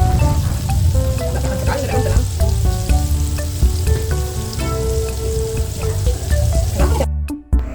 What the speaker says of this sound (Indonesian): ini minyaknya juga sudah agak-agak panas. Jadi langsung saja kita cemplungin cuminya.